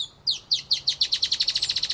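Choquinha-carijó song: a rapid series of about fifteen sharp, high chirped notes that start spaced and quicken into an even, steady trill, close and clear against a quiet background.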